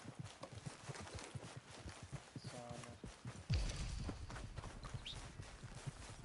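A horse's hooves clip-clop in a steady walking rhythm in the video game Red Dead Redemption 2, faint and continuous over game ambience, with a heavier thud partway through.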